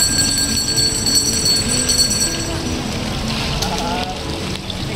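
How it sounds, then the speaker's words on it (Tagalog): Water splashes steadily from a fountain in a church courtyard at Santa Rita Parish Church in Quezon City, heard as a continuous wash under a faint high tone, with people talking nearby. "Andito tayo sa fountain ng Santa Rica."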